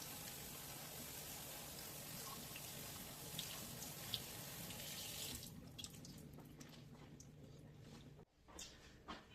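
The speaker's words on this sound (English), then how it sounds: "We're going to open them. We're going to rinse them off well" Canned lentils are rinsed under a running kitchen tap, a steady close splashing stream that stops partway through, leaving faint clinks and handling noises.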